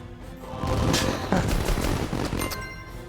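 Fireworks go off in a city-building video game as a dense, continuous crackle of pops and booms, fairly loud and sustained for a few seconds with no talk over them.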